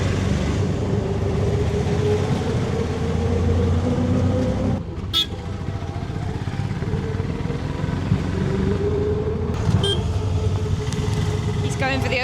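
A tuk-tuk ride through town traffic in Hampi, Karnataka, India, with a steady engine drone, passing vehicles and short horn toots, plus voices talking over the din.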